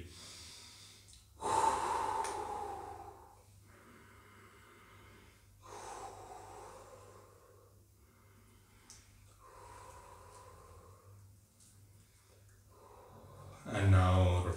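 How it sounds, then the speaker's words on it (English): Slow, audible breaths during yoga practice in preparation for lotus pose, with long inhales and exhales repeating every few seconds, close and fairly soft, ending in a louder breath. "Breathe."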